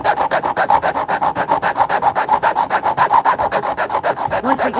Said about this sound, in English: I'll just kind of cut a piece of wood